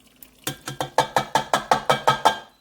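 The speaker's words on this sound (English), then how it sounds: "now I'm going to add 1 cup of yogurt to this." Yogurt being stirred into a pot of beef for yakhni pulao: about eleven evenly spaced scraping strokes of a spoon against the pot, close and clear, building in a steady rhythm.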